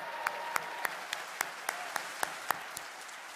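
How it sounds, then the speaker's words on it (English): Applause at the opening and welcome session of an Aspen Ideas: Health 2023 event, heard as distinct, evenly spaced claps standing out over a faint, hushed room, sounding fairly distant and thin rather than a full roaring ovation. "One more round of applause."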